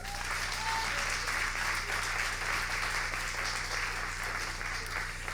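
Sustained audience applause for a literary prize winner at an anniversary gala of a francophone authors' association, dense and even clapping over a low steady hum, with a faint voice underneath.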